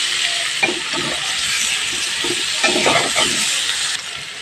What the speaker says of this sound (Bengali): দিয়ে ভেজে নিতে হবে আলু আর ওলকপিটা।